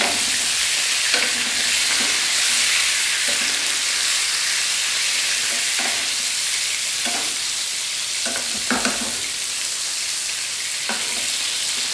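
A steak sears in a hot pan with a steady, loud sizzle, punctuated by brief crackling spits. No voices break the frying.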